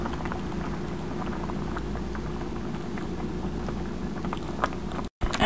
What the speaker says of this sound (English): Stirring gently.